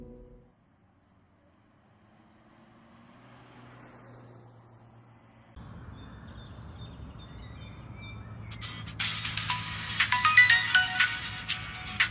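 An electronic phone ringtone plays with a clear, repeating melodic pattern, starting faint and growing louder toward the end over a low background hum.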